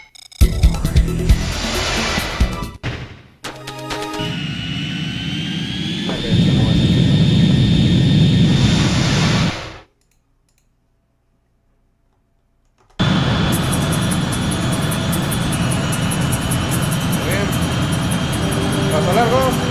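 Fighter jets roar in the Ace Combat flight game, loud jet engine whooshes and sustained thrust with a sudden silent gap before the engine noise returns; a voice talks over parts of it.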